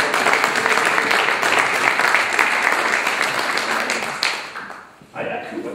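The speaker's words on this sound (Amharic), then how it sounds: "አጨብጭቡለት ለዚህ መልአክ።" A church gospel congregation applauds loudly and densely for several seconds, the clapping thinning and fading near the end as a voice comes back in.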